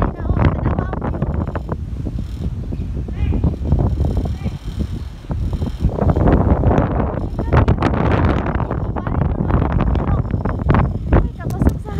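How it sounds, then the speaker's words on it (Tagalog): Strong seaside wind buffets the microphone in loud, rumbling gusts that rise and fall, with a person talking intermittently beneath the roar. "Ay, kapasok sa hangin. Piting kusog ang hangin diri."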